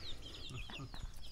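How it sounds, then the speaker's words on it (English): Chickens perched up in a tree in a Kenyan village give several short clucks close by, with a soft rooster-like call mixed in over a steady outdoor background. "Chickens on the tree."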